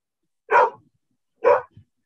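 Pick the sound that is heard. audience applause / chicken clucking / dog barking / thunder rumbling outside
dog barking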